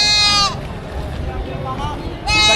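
Goats bleat loudly and close by at a livestock auction in Padre Garcia, Batangas, one cry at the start and another at the end, with faint background chatter in between.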